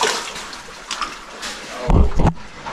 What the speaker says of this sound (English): Something's trickling back here.